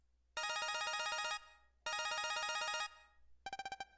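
A ringtone from the Mega Man Star Force 2 video game sounds for an incoming phone call: two long bursts of a rapid, bright electronic warble separated by a short pause, then a quicker pulsing chime at the end.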